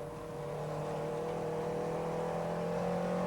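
A Renault 5 Elf Turbo race car accelerates hard at the 1987 UK Cup, a continuous close engine drone with steady rising tones that build in level over a few seconds.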